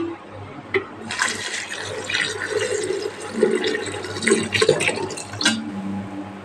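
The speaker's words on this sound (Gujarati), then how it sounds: "આપણે પાણી નાખી દઉં." Water pours steadily into a metal pressure cooker for several seconds, a sloshing, rushing stream that swells and surges near the end.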